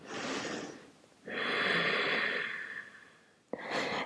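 Deep yoga breathing during a neck and shoulder routine, a long airy inhale followed by a slow drawn-out exhale and another sharp intake, close and soft with no talking.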